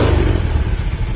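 A motorcycle engine running loud and near, a steady low chugging idle just after being started with the electric starter, with no talk.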